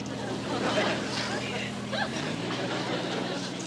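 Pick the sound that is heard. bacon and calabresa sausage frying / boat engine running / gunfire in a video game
boat engine running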